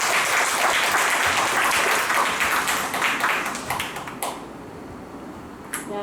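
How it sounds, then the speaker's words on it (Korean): An indoor seminar audience claps in dense, loud applause that holds steady and then thins out into a few scattered claps before fading. "큰 박수를 한번 모셔보겠습니다"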